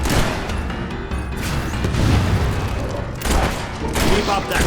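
Gunfire in the video game Fable 3, loud rapid volleys and booming shots crowding one another in a continuous battle din, with a voice briefly over it.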